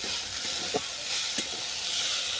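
Moringa flowers fry in a pan with turmeric, giving a steady, fairly loud sizzling hiss throughout, with a couple of soft stirring scrapes.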